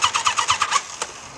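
An engine cranks in a workshop during a hot start, with a rapid rhythmic churning of about eight strokes before it catches with a sharp burst, then fades to a low rumble.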